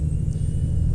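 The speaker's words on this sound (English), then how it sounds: "listen to the sound of the truck" Peterbilt 377 truck engine in American Truck Simulator, a steady low diesel rumble droning evenly and close throughout the short moment with no talk.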